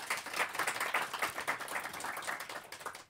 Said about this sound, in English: please give a round of applause for my two panelists